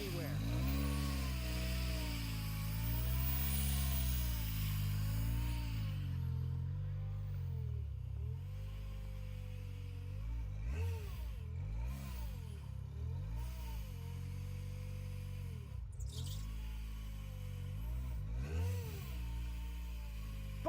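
A car engine being bump-started in snow groans and surges in uneven, wavering pulses, dipping and catching several times, while voices talk over it throughout.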